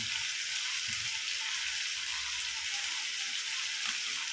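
Tomatoes and salt sizzle in a little frying oil with a dense, steady hiss like light rain. The pan is heard close and alone, with no talking.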